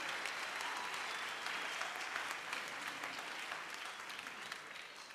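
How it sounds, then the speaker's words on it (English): An audience at a concert featuring a marimba program claps in steady, sustained applause that fills the hall evenly, tapering slightly toward the end. "they deserve a huge round of applause"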